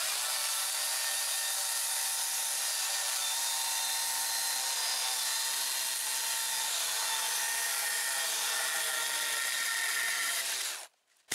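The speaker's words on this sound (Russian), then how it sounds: "Сейчас мы попробуем распилить вот такой столбик." A Stihl cordless chainsaw buzzes steadily for about ten seconds as it cuts through a wooden post, then stops abruptly near the end.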